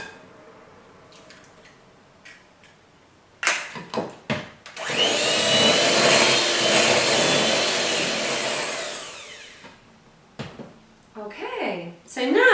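Electric whisk beating butter, sugar and egg for a Christmas cake, a loud steady whir lasting several seconds, with bowl knocks and a voice speaking before and after it.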